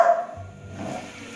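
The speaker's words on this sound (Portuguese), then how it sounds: "A Nina não se conforma com esse mini cachorrinho" A small toy dog gives a brief, high-pitched bark or yip at the start, close and fairly loud, followed by low rumbling noise.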